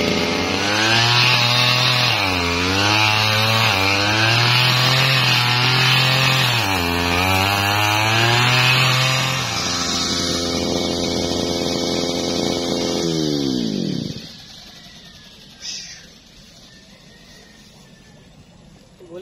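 A grass cutter's small two-stroke engine runs loudly and steadily, its pitch rising and falling with throttle changes, then winds down and cuts off near the end.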